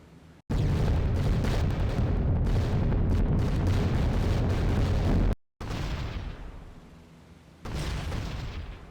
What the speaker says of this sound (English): Here comes the flak again